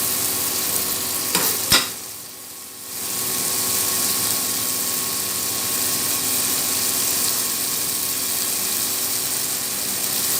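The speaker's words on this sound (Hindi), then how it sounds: "ये टमाटरों का पानी वगैरह भी खुश्क हो जाए ताकि और ये गोश्त और मसाला यकजान हो जाए" Chicken, tomato and masala fry in a pan as they are stirred, giving a steady broadband sizzle throughout after a brief clatter near the start, with no voices.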